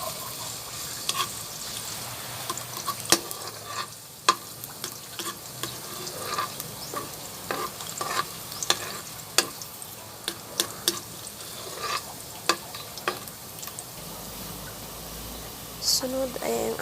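Garlic frying in hot oil in a pan, a continuous soft sizzle with scattered spoon clinks and stirring scrapes, fairly close and moderately quiet.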